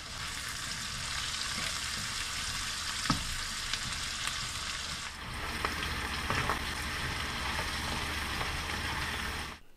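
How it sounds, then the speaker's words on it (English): Green onions brown in a pan with a dense, steady sizzle and occasional scraping stir sounds, close and continuous throughout. "Start mixing all these flavors together and start browning everything"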